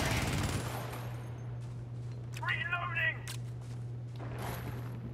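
Automated turret gunfire in the video game Helldivers, a burst of rapid shots around the middle with brief sharp bangs, playing against a steady low hum and other game noise.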